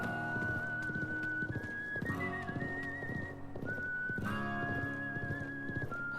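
Clip-clop hoofbeats from a horse named Goldie in the Live a Live video game sound in a steady rhythm beneath a prominent whistled melody, with no talking.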